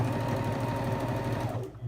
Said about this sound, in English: And then you close your sewing machine and you start sewing.